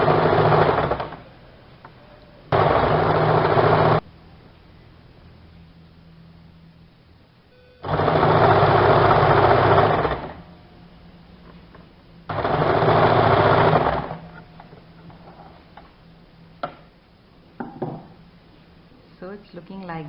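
A sewing machine stitching fabric for a semi Patiala salwar runs in three short bursts of a few seconds each, loud and close, with quieter pauses in between.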